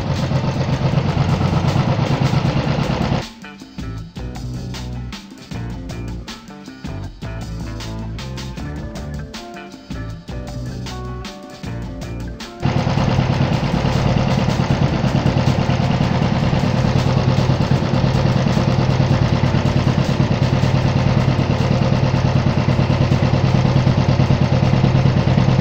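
A Royal Enfield EFI motorcycle engine idles loudly and steadily, drops to a lighter, uneven clatter partway through, then returns to a stronger, higher steady idle as the idle screw is adjusted.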